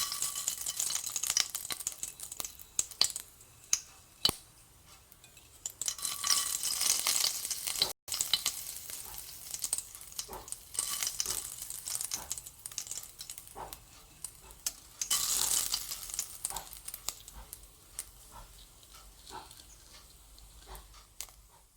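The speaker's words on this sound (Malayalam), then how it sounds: "കടുക് പൊട്ടി വരുമ്പോൾ" Mustard seeds spluttering and popping in hot oil while tempering a Kerala thoran, a continuous close sizzle with scattered sharp crackles and a few louder pops, no voices.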